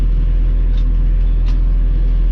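Tractor pulling a MechMaxx VAM65 flail mower in low gear with the PTO running, blades lifted off the ground, giving a loud, steady low engine rumble and mechanical drone throughout, with no talk.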